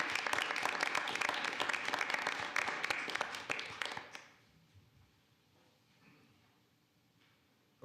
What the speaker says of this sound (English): And I do think that presentation deserves a round of applause.